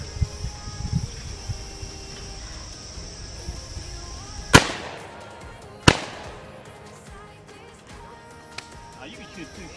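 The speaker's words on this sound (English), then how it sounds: "Now you can shoot two shells." Two sharp, loud shotgun blasts at sporting clay targets on an outdoor range, about a second apart, each with a brief echoing decay, while people talk throughout.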